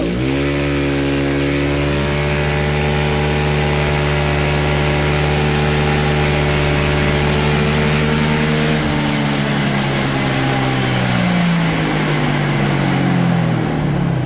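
A Honda Click scooter engine holds a steady, loud rev at about 3,000 RPM for several seconds, then drops and settles into a rougher, fluctuating idle.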